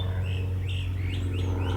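Birds chirping loudly outdoors on a walking tour of the Battle of Blackjack site, several sweeping tweets in quick succession over a steady low hum, nearby and clear.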